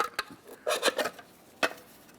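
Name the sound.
small pry bar prying off a wheel center cover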